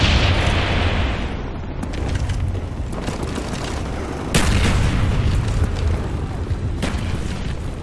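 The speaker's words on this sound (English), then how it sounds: "Friendly napalm strike on the way." A napalm strike in Call of Duty: Black Ops erupts in heavy booms and rolling roar, with a sharp blast near the midpoint and further explosions and crackling over dense game noise.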